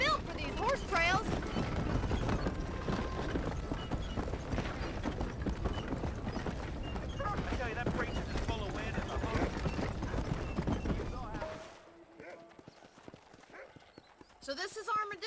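Steady clip-clop of horse hooves hauling a wagon along a trail in the video game Red Dead Redemption, loud and continuous with voices talking over it, then dropping away near the end.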